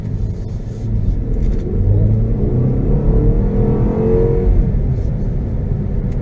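A BMW X2 F39 in manual mode makes a hard power pull: a steady engine drone swells into a rising, rumbling acceleration that holds for several seconds, heard from inside the car.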